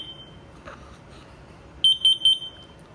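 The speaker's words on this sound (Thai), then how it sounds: "ให้มากด 5 วินาทีนะครับ ให้มีเสียงดัง 3 ปิ๊บ" Three short, shrill electronic beeps in quick succession from a nearby Hikvision alarm entering pairing mode, following a couple of faint chirps over quiet background.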